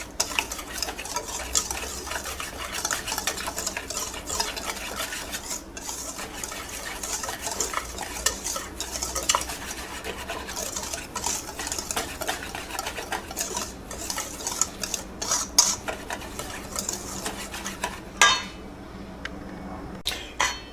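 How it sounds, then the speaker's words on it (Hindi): Dry spices whisked into a fish batter mix in a bowl, a continuous close rapid scratching and tapping of the whisk for about twenty seconds, with faint clinks, no talk. "अब इन तमाम चीज़ों को हम फिर विस्क के ज़रिए बहुत अच्छी तरीके से मिक्स करेंगे"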